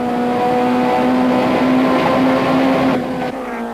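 Touring cars race at Port Elizabeth in the 1994 South African championship: a loud, steady engine drone with a sustained tonal whine close by, easing slightly near the end, with no talk.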